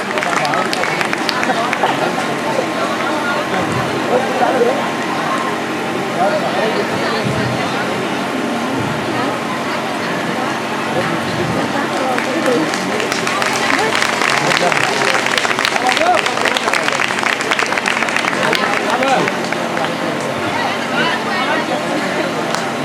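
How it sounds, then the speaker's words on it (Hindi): An audience applauding at a school annual function, a sustained loud wash of clapping mixed with crowd chatter and a voice talking over the hall. "जोरदार तालियां, सम्मान होता है तो तालियां भी बजती हैं"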